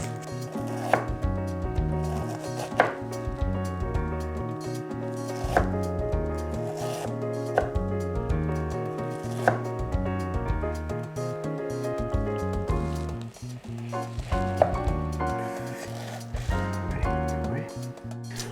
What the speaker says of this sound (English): For this other onion, we'll cut it into rings